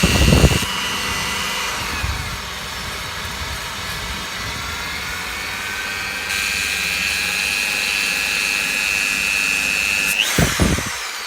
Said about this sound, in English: I'm just taking a flap sander attachment.